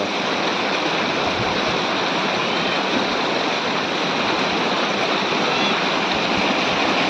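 A waterfall and stream pour down from the hills near the Sandhida Mahadev temple, making a loud, steady rushing roar of water that never breaks, with no voices heard.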